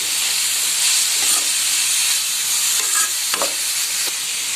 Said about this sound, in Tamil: குடமிளகா சேர்த்து நல்லா கலந்து விட்டுடலாம்.